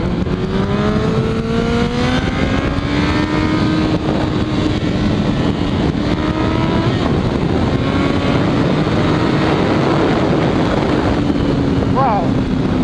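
Kawasaki Ninja ZX14R sport motorcycle ridden through a corner, its engine note rising and falling steadily beneath heavy, constant wind roar, with no pauses.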